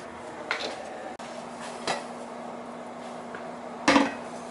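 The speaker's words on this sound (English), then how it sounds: "Just stirring it every so often so it don't stick" A spoon stirs zucchini, summer squash and rice in a pot, giving a few sparse metallic clinks and knocks over a low steady hum.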